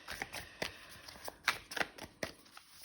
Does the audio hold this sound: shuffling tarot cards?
yes